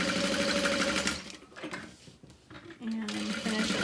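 A sewing machine stitching vinyl for a wristlet, close and loud, running in a fast steady whirring burst, slowing and stopping briefly, then starting again, with a person talking over it.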